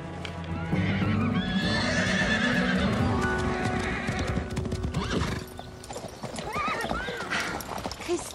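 A horse in a paddock with clopping hooves, loud whinnying and neighing, plus busy animation-style effects, close and full throughout.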